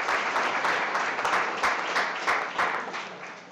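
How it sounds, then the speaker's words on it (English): Enthusiastic applause from a crowd, steady clapping with a few louder bursts, fading slightly toward the end. "big round of applause"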